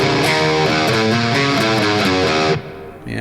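A distorted electric guitar plays a short, chunky riff of repeated chords, loud and up close, then cuts off abruptly.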